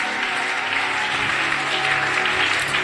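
A church congregation at a Sunday service bursts into loud, sustained applause, thick continuous clapping with cheering and a low hum of music beneath it.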